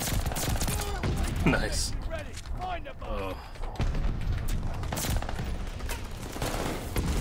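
Rapid gunfire and weapon handling from a Call of Duty Vanguard multiplayer match rattle steadily throughout, with a player's voice speaking briefly over the game sounds.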